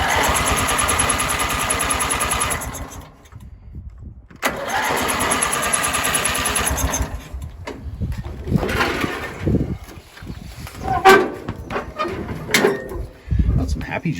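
A two-cylinder Lawn Chief lawn mower engine runs loud and close at full throttle, cuts out briefly, roars again, then sputters and coughs unevenly toward the end.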